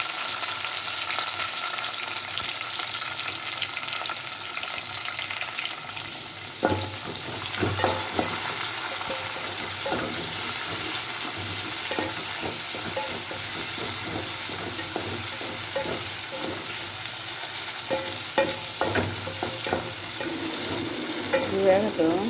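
Chopped onions and tomatoes frying in a pan, a steady soft sizzle with intermittent clinks and scrapes of stirring, no talk.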